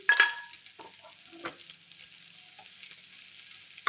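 Leftover crispy chicken with green beans frying in a pan, giving quiet, intermittent sizzles and a few soft stirring scrapes, fairly close and gentle.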